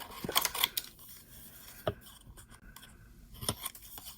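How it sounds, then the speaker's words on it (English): Regular scissors snip through white cardstock in a few crisp cuts, with quieter stretches between them, close and fairly faint. "I'm using just my regular scissors. I'm cutting it out of white cardstock."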